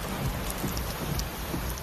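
Heavy rain pours steadily across the whole stretch, a dense close wash with scattered drop impacts, the kind of downpour that set off flash floods at a theme park in east Tennessee; no voices.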